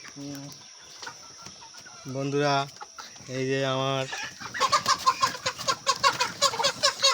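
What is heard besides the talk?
chickens clucking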